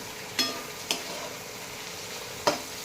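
Bitter gourd (karela) stir-fried in a pan over a faint steady sizzle, with three sharp spatula taps against the pan spaced apart, close by and with no voices.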